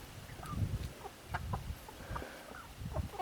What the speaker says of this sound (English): Chickens and goats coexisting with turkeys.